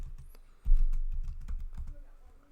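Quick keystrokes on a computer keyboard, a burst of close, crisp clicks with a few louder taps, typed while entering a name into an app form.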